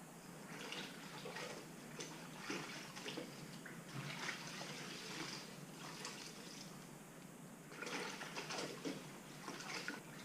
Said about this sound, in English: Just dip it into this warm water, now it's soapy water,